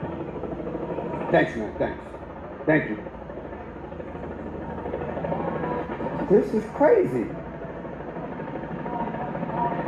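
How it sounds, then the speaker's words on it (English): Several helicopters hover overhead above a street protest in Chicago where agents are blocked by cars, giving a steady, moderately loud rotor drone that runs throughout beneath people talking and calling out. "Y'all hear the helicopters?"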